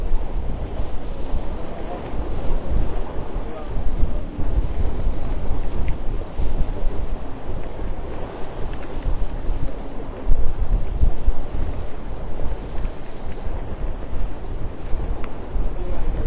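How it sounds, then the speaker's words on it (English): A sailboat tacking through wind and waves at the start of a race, with steady loud wind buffeting and rushing water filling the whole stretch and no clear voices. "we're getting ready to throw a tack in here"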